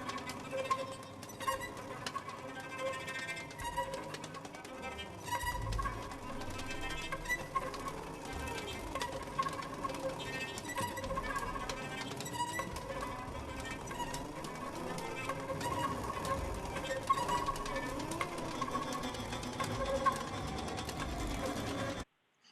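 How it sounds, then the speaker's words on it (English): An orchestra layers many instruments played with percussive techniques, producing a dense, busy texture of rapid clicks, taps and rattles over sustained tones, steady and moderately quiet until it cuts off abruptly. "But what happens when you get a whole group of different instruments, each making their own percussive efforts"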